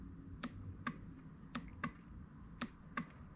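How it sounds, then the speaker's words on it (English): A small fuel pump relay in a BMW E34 clicks sharply six times in an uneven pattern, crisp and close, over a faint steady background hum. "if you hear a click come from the relay, that means it's basically functioning"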